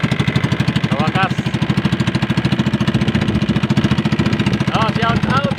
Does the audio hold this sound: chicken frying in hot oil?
no